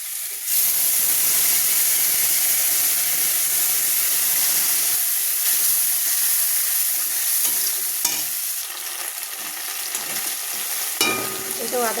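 Ginger-garlic paste fries in hot oil in a pan while biryani is being made, giving a loud, steady, close hiss and sizzle that continues throughout, with occasional scraping and stirring noises and no talking.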